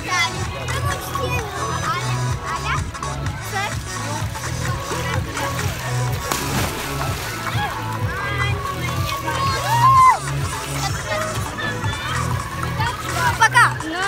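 Children splash about in an outdoor swimming pool under an open water umbrella fountain, with steady splashing and bursts of kids' shouting and chatter over a continuous wash of water throughout.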